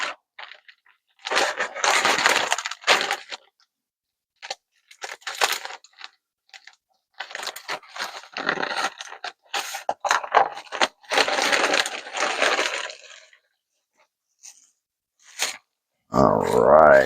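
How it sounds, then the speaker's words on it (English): Plastic shipping bag is torn and rustled open up close, in several bursts of crinkling and crunching separated by short silences. "Let's go ahead and crack into this bag and see what I got."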